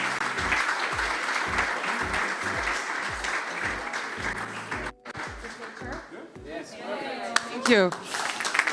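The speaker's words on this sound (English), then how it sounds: "So big applause to the startup Creasphere team, please, everybody" Audience applause for the Creasphere startup team at a summit expo, rhythmic clapping in a steady beat that breaks off midway, followed by a brief spoken thanks and stage chatter.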